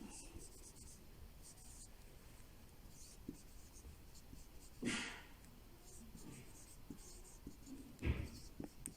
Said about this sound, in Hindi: मैं इसको TD लिखूँगा